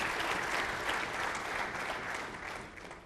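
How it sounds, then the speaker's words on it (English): A panel discussion audience gives a round of applause for two women on stage, a full, steady burst of clapping that fades slightly toward the end. "Round of applause, actually."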